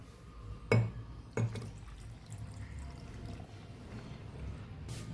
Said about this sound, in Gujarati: જે બાઉલની અંદર આપણે મીઠું અને હળદર ફેરવેલા એ એની અંદર આપણે આ ચોખ્ખું પાણી ઉમેરવાનું છે